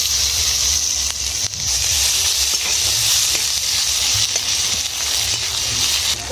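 Onion dropped into hot oil tempered with bay leaf and five-spice, in a pan that had just fried tilapia. The close, loud hiss and crackle continues steadily with no voices.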